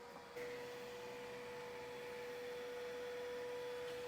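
A eufy E20 robot vacuum hums steadily with a constant tonal whine after starting up abruptly, quiet and even throughout with no voices.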